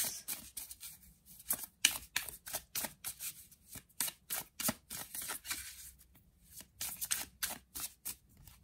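Tarot cards are riffled and tapped in quick, crisp bursts, a rhythmic series of close flicks and snaps with short pauses between, and no talking.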